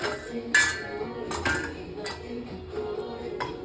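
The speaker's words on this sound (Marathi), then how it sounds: "बुडाचा तवा ठेवायचा" A heavy-bottomed metal griddle (tava) clanks down on a surface, followed by a few more metallic knocks and scrapes nearby.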